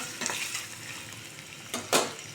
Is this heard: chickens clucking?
no